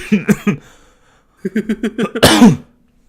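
A single sneeze bursts out near the end, close and loud, following several short throaty coughs or chuckle-like sounds. The setting is a casual live reaction stream.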